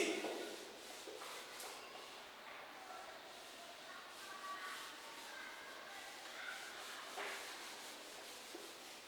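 A teacher wipes a section of a classroom board clean during a Class 10 coordinate geometry lesson, giving a steady soft rubbing and scraping that runs throughout, with faint speech underneath.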